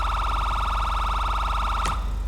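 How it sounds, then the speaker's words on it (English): A whaler-style police siren on a patrol vehicle in a GTA roleplay game wails loud and close in a rapid, pulsing electronic tone that cuts off abruptly near the end. "you're gonna have 2 sirens coming out of your vehicle"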